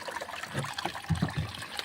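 Free tap water trickles and gurgles softly at an outdoor property. The sound is an uneven, bubbling dribble with a few small splashes, faint and close, and no voices.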